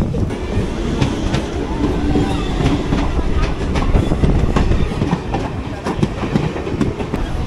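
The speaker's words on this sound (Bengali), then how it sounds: "ট্রেনটা কৃষ্ণনগর ঢুকছে।" A local passenger train rolls into Krishnanagar station on the Lalgola–Ranaghat line, with a loud, continuous rumble and rhythmic clickety-clack of wheels over rail joints, heard close from inside the coach.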